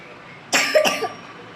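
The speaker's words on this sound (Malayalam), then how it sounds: "ഇതുപോലുള്ള വില്ലൻ ചുമകളും ഇയാൾ എക്സ്പോർട്ട് ചെയ്യുന്നതായിരിക്കും" A single person coughs once up close, a sharp harsh burst followed by a quick second hack and a brief throat-rasping tail, against a quiet background.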